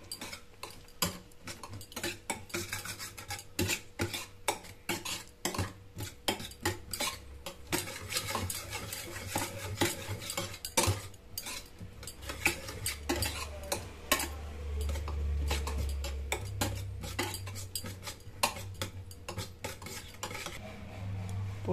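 Eggs beaten briskly in a bowl with a spoon or fork for a flower omelette, making steady rapid clinking and tapping for over twenty seconds, close by, with no one speaking.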